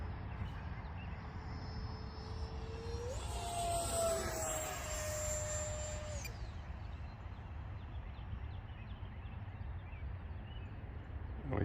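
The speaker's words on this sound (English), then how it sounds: "I'm way up there. And I'm cruising at like 3/4 throttle here." RC F-86 Sabre model jet cruising at three-quarter throttle high overhead, a distant thin whine that rises and sweeps past steadily over constant wind and background noise.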